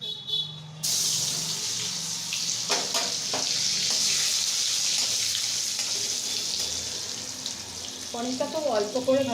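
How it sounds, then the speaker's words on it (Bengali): Paneer frying in white oil in a kadai gives a steady, fairly loud sizzle, with a few scraping stirs and some brief low voice-like sounds at the end. "এবার মা পনিরটা ভেজে নেবে"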